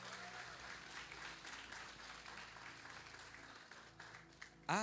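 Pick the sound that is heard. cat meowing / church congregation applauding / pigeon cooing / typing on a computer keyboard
church congregation applauding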